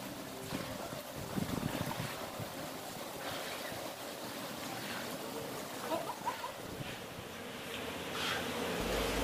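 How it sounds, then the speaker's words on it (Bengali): Strong wind and rain during a storm, with a continuous rushing gusty roar and broadband noise that swells near the end, steady throughout. "সারাদিন বৃষ্টি হচ্ছে, জোরে বাতাস বইছে"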